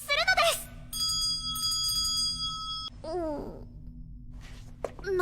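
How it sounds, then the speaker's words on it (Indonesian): A resurrection bell rings at a god's tomb in a video game, a sustained bright metallic tone that holds for about two seconds between short bursts of voice-like game sounds. "Pei kemudian mencoba membangunkan Dewa Rusima dengan lonceng kebangkitan"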